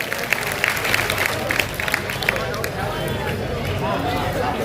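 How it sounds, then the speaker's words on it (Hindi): Vigorous applause from a crowd at an outdoor poetry recital under a pavilion, dense clapping throughout with scattered sharper claps and some background voices, steady and fairly loud. "भैया के लिए एक बार जोरदार तालियां बजाएं"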